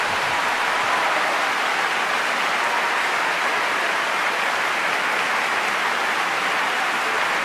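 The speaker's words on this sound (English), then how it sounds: "Oh, we're clapping" A small group of people clap together at the end of a home cooking demonstration, the clapping steady, dense and close throughout with no break.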